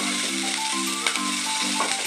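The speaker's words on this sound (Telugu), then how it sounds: "పచ్చిమిరపకాయలు కొంచెం వేగిన తర్వాత కరివేపాకు, కరివేపాకు వేగిన తర్వాత కొంచెం అల్లం వెల్లుల్లి పేస్ట్" Green chillies, curry leaves and ginger garlic paste sizzle steadily in hot oil for a mutton and potato curry, a close, continuous frying hiss with light stirring clicks.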